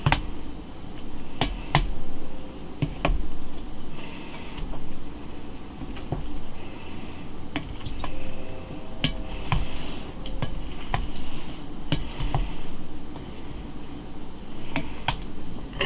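Rotini pasta salad with Italian dressing and pepperoni is stirred in a bowl, giving soft squishing and a run of sharp clicks and taps as the utensil knocks the bowl, fairly close and with no talk.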